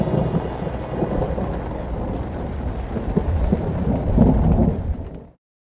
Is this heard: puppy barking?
no